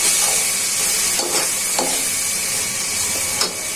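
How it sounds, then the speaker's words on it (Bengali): Giant freshwater prawns with ginger and garlic paste sizzle in a pan with a steady bright hiss, broken by a few soft scraping stirs. "মাছটা ভালো করে কষানো হয়ে যায়"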